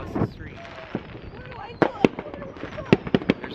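Fireworks crack and pop from several directions, some distant thumps and a few sharper nearby bangs, scattered irregularly beneath a faint whistle and background noise.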